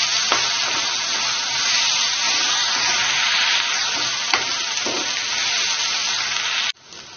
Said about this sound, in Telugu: ఇప్పుడు దీనిలో చేసి పెట్టుకున్న మసాలా పేస్ట్ వేసేద్దాం. దీన్నంతా ఒక 5 నిమిషాలు ఫ్రై చేసుకోవాలి.